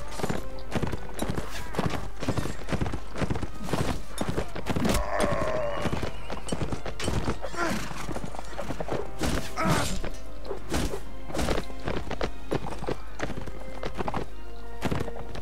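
A riderless horse gallops in a Mount&Blade Warband battle, with rapid, dense hoofbeats, thuds and clatter running throughout and a brief whinny amid the busy, loud game action.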